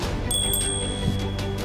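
A hand bell rung at a political rally, giving a sustained high, clear ringing tone over a steady low crowd rumble.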